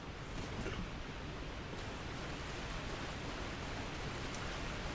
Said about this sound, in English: this waterfall that I'm running directly through is really loud